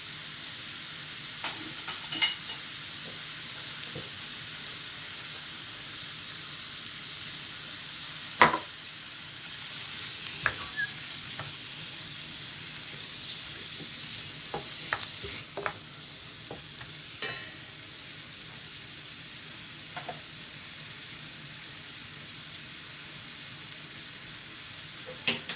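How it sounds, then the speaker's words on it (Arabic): Liver frying in a pan with a steady low sizzle, broken by occasional soft clicks and scrapes of stirring, close and fairly quiet, with no talking. "غادي نزيد لها واحد نص كاس ديال الماء باش طيب لنا الكبده"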